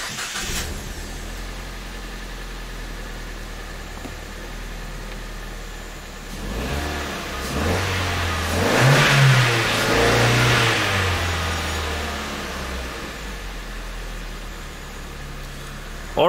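A Ford Fiesta engine with an electronic throttle body fault idles, then revs up loudly around the middle, the pitch rising and falling before settling back to a steady idle.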